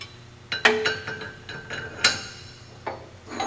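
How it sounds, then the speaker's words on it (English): Metal dovetail turbine blades slide down into a bare turbine wheel during a retro kit installation, giving a few light, sharp metallic clinks and taps spread over a few seconds in a quiet room. "Now you install the rest of your blades. They're a dovetail design They slide right down into the bare wheel."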